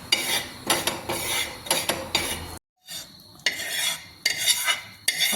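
A spoon scrapes and stirs roasted gram flour into a paneer tikka marinade in a bowl, giving continuous close, gritty mixing and clinking in uneven strokes, with one brief pause midway.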